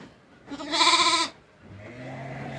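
Garut sheep on a farm bleat in one loud, wavering call lasting under a second, followed by a softer, lower bleat near the end, with no talking.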